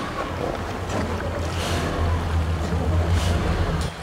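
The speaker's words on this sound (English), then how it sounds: "There, all the engines are running, so now we're good." Boat engines run with a steady low throbbing hum beneath gusts of wind and open-water noise, continuous and close.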